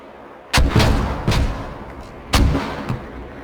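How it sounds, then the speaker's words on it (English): Mortar shells land and explode in a series of heavy booms, three main impacts with rumbling tails, loud and fairly close, with a fainter thud in between. "Watch that, our mortars are coming down."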